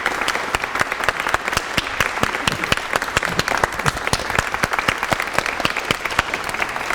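Enthusiastic applause from a concert audience after a Beethoven string quartet performance, loud, dense and continuous clapping with sharp individual claps standing out throughout seven seconds.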